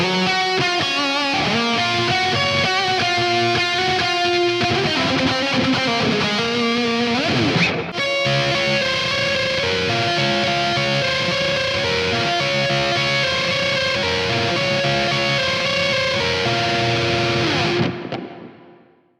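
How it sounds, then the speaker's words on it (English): Electric guitar chords and sustained notes ring out with a lush, washy plugin reverb tail, playing continuously at steady volume before fading out at the end. "Let's listen to this reverb."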